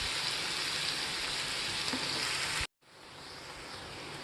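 Onion, garlic and ginger frying in a pan, a steady dense sizzle that cuts off abruptly partway through, then resumes slightly softer.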